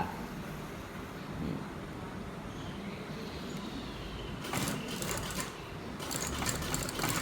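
A sewing machine stitches the flapped back pocket of a pair of trousers, a low, steady mechanical whirring at moderate distance. It speeds up into brisker bursts of stitching near the end, with no talking.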